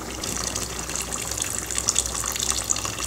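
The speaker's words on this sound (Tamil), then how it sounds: "இப்போ அந்த தேங்காய் பாலை இதில் ஊற்றலாம்." Coconut milk poured into a pot of mutton kuzhambu, a steady liquid gush and splash running throughout at moderate level, with no talking.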